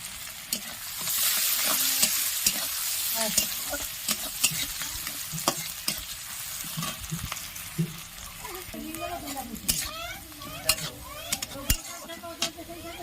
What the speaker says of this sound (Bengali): ভালো করে ভেজে নেবো, ভালো করে।